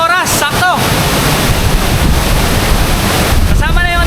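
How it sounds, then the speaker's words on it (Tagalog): Strong wind roars near Ubot Falls in Villa Aurora, a loud and steady broadband rush with water noise that lasts the whole clip, while a person talks briefly at the start and again near the end. "habang papalapit tayo guys, ang lakas ng hangin"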